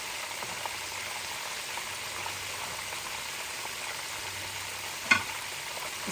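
Red snapper frying in a pan on a turned-up stove gives a steady, soft sizzle throughout, with a brief sharper crackle near the end.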